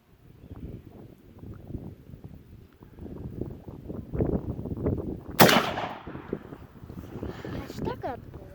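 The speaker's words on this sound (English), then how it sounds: "we'll see what happens when you shoot a tannerite container without a top on it" A rifle shot detonates tannerite packed inside a pumpkin outdoors: one loud sharp crack with a burst of debris noise midway through, while people talk before and after amid light wind.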